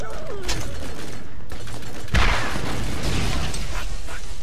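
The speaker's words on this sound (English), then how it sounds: "Wow, that was like three explosions at once." In the Borderlands video game, a loud blast bursts out midway through a busy stretch of game noise, followed by crackling debris and further rumbling, with no voices.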